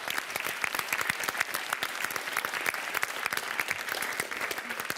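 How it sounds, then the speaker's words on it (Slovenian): Enthusiastic applause from a school audience for a primary school girls' team at a speed cup-stacking competition, dense continuous clapping with no pauses. "En velik aplavz pa seveda tudi za punce iz osnovne šole Franceta Bevka Ljubljana."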